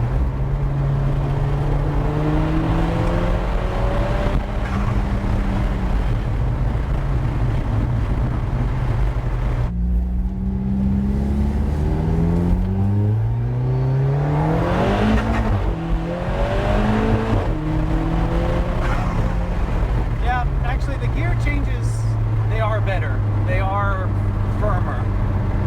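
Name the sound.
Alfa Romeo 4C car driving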